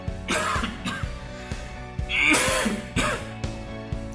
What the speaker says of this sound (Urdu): کھانسی، ٹھنڈا لگ گیا